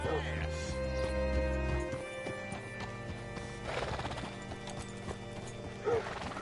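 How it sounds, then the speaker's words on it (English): Horse hooves clip-clop in Red Dead Redemption 2, a steady rhythmic trot that is close and clear, with a horse whinnying and faint mechanical clanking behind it. "Hitch your horse up here."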